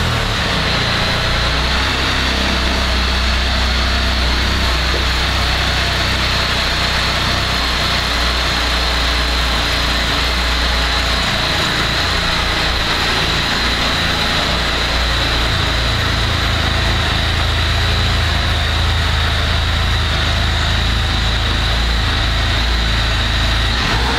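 A 2016 Can-Am Spyder RT Limited three-wheeled touring motorcycle engine runs at a steady idle throughout, a loud, continuous low rumble with a constant mechanical hum and no voices.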